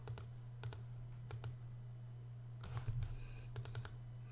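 Quick bursts of computer keyboard typing, clusters of light clicking keys with short gaps, close and fairly quiet over a steady low hum, no speech.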